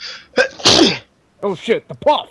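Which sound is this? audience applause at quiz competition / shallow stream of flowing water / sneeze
sneeze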